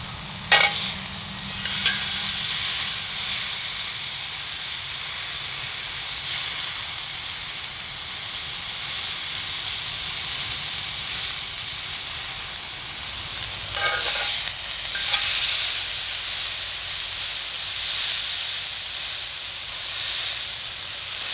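A deer tenderloin steak sears in a hot skillet, giving a steady close sizzle and hiss that runs the whole time, with a couple of brief louder crackling bursts along the way and no one talking.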